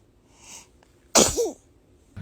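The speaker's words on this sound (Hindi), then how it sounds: "बच्चा छींक रहा है" A young child sneezes once, a sharp close burst with a brief wet trailing tail, in an otherwise quiet room.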